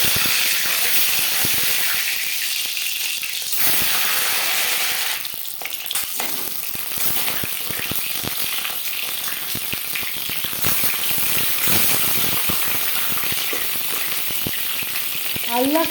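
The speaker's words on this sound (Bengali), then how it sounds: "3 চামচ রিফাইন্ড অয়েল গরম করে নিয়েছি। এবার দিয়ে দেবো ডিম।" Eggs fry in hot refined oil in a pan at home, a loud, steady sizzle with crackling bursts and occasional stirring scrapes running through the whole stretch.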